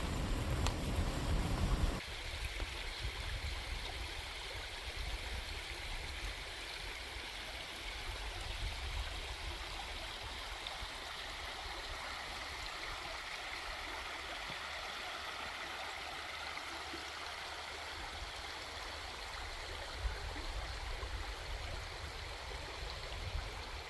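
A creek flows steadily beneath a small wooden footbridge in a state park, a constant close rush and gurgle of moving water with no voices over it.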